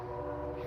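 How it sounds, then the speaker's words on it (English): A train on nearby tracks gives a steady, close drone with a sustained tonal horn-like hum throughout, loud and unbroken, with no speech. "train's coming"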